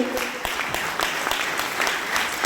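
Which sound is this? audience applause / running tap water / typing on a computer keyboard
audience applause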